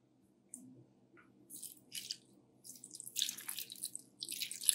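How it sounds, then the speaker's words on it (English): Water poured into a pot while cooking vegan ackee and saltfish, heard as intermittent splashing and trickling bursts that grow louder and busier toward the end, over a faint low hum. "Then we're going to start off with some water."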